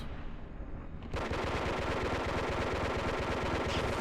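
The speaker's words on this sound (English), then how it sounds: "I'm going to switch to shock, and then I'm just going to basically start firing in a second." A weapon set to shock fires in the Disruptor video game, a loud, rapid, continuous stream of shots like a machine gun that starts after a short quieter stretch and runs without a break.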